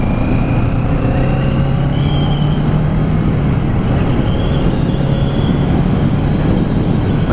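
A 2021 Kawasaki Z650 twin-cylinder motorcycle being ridden, with a steady loud engine drone and broad wind rush, the pitch shifting slightly as it moves, with no voices.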